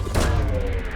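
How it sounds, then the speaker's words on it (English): A probe launch in the Mass Effect 2 game: a short burst at the start, a loud whooshing thump, followed by a low rumbling tail that fades out, with no talk. "Launching probe."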